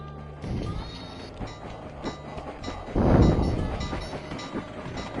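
Train rushing past in the video game Sly 2, a dense rumbling clatter that swells into a loud close surge around the middle, with game music and effects layered over it.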